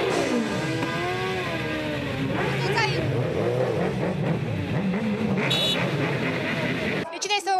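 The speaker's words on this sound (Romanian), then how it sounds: "mai mulți motocicliști făceau manevre gălăgioase" Motorcycles revving noisily at a street protest, engine whines rising and falling over crowd noise and talk, loud and close, with a brief horn-like tone.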